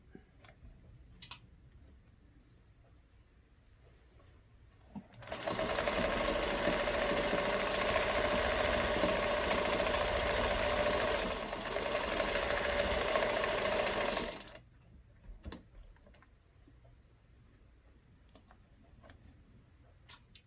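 A sewing machine stitching a collage hat, one loud steady run of about nine seconds with a brief dip midway, set between quiet stretches with faint clicks of handling.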